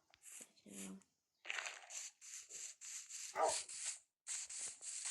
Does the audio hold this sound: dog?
yes